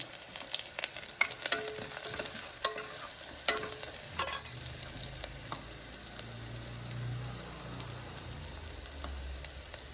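Onion with potato and tomato curry frying in a pan, a steady low sizzle with sharp spoon scrapes and clinks against the pan in the first half, then softer bubbling and frying continuing alone.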